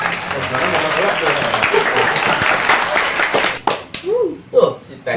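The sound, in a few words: audience applause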